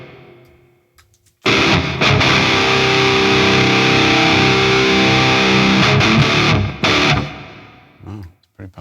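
Distorted electric guitar played through a Laney Lancaster amp with digital reverb, a loud sustained chordal passage with ringing tails that stops abruptly near the end.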